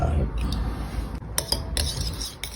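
Cutlery stirring a canned fish salad in a dish, with a run of close metallic clinks and scrapes against the bowl and soft mixing between them.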